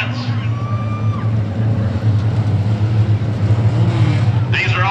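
Carbureted four-cylinder mini stock race cars run a feature race at Oglethorpe Speedway Park, a steady loud engine drone filling the whole stretch with a rising whine near the end, while a voice talks over it.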